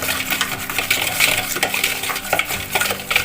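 Powdered sugar being mixed into cake batter in a bowl, with quick continuous scraping and clinking of a spoon or whisk against the sides, close and busy throughout.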